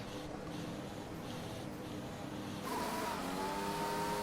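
An F1 car in F1 2021 at Abu Dhabi pulls away on the formation lap, its engine idling low and then rising into a clear revving whine as it accelerates off the grid.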